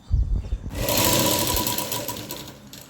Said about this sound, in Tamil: இந்த மாதிரி தைச்சதுக்கு அப்புறமா இங்கே ஒரு படிமான தையல் போட்டுடணும்